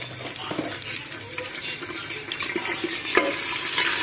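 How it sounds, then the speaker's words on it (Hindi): Bay leaves and black peppercorns sizzle in hot oil in a pot for yakhni pulao: a steady bright hiss with scattered crackles and pops, close and fairly loud throughout. "तेल मेरा गरम होने लग गया है। अब मैं इसमें डाल दूंगी गरम मसाले के पत्ते और काली मिर्ची।"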